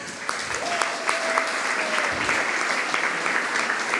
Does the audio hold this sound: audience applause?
yes